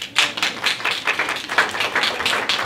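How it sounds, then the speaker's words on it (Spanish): A small group claps together in a brisk, continuous patter of applause, moderately loud and without voices. "Un aplauso para los contadores."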